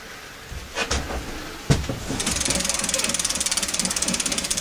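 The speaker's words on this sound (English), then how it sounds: "I think the bearings sound kind of dry." A dry, rapid ticking of a freewheeling bike wheel with dry bearings spins steadily after a few knocks, the clicking rhythm close and fairly loud with no talk.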